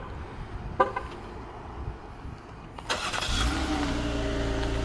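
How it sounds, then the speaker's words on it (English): A Jeep Cherokee Limited 4x4 with a 3.2 liter V6 remote-starts: a horn chirp, a second chirp, then the engine cranks and settles into a steady idle, heard close and without talk. "one of the features is a remote start"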